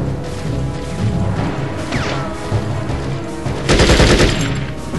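Sustained video-game gunfire in Conflict: Desert Storm, dense automatic bursts over loud background music and effects, swelling into a heavier burst near the end.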